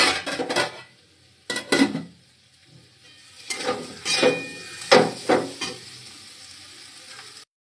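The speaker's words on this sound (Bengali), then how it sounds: "দেখতে পাচ্ছেন পেঁয়াজ ভাজা হচ্ছে" Onions frying in a pan, bursts of sizzling and stirring with clinks of a utensil against the pan, close up, with quiet gaps between.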